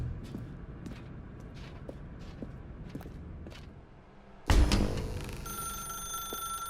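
A telephone in The Stanley Parable suddenly starts ringing after quiet footsteps, a loud, bright electronic ring that bursts in and keeps sounding steadily to the end.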